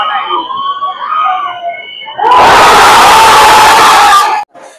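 A huge stadium crowd at an IPL cricket match between CSK and Punjab at Chidambaram Stadium erupts into a roaring cheer midway, after a shorter stretch of nearer voices, then the roar cuts off abruptly.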